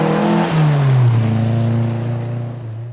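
A Lancia Fulvia HF rally car engine revs loudly and close by during a regularity rally, its pitch falling and then holding steady as it pulls away, with no voices present.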